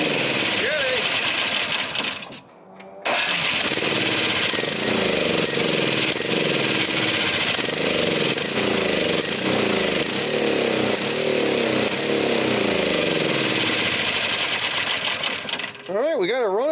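A Toro Power Clear 621 E snow thrower with a 163cc OHV four-stroke engine runs loud and close in a steady, rough chugging drone, with a brief dip early on and voices talking over it.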